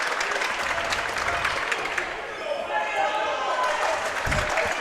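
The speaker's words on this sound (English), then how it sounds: "Every time Lambert touches the ball, everyone starts clapping, trying to get in the head of the Warrior point guard" Westminster student section claps steadily in a school gym during a varsity boys basketball game against North Atlanta, loud dense applause with crowd noise, a ball bouncing on the court and occasional sneaker squeaks, with a voice talking faintly underneath.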